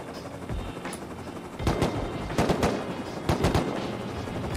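Gunfire in the video game Rust: bursts of automatic shots in several clusters over a constant background hum, moderately loud and without talk.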